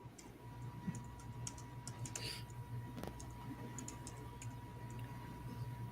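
A computer keyboard is typed on in quick, light, irregular clicks, close and fairly faint over a steady background hum.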